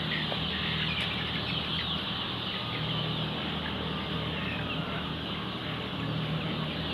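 Chickens cluck in a crowded poultry farm shed where a truck is unloading maize feed, a dense steady chorus of clucks and squawks over a constant background hum.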